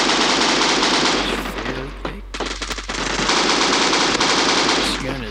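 An M60 machine gun in the video game Bullet Force fires sustained loud bursts, a steady rapid chatter with a brief pause in the middle before resuming, heard close and alone.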